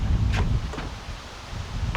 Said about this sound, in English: we'll get a reasonably windy day, kind of like this one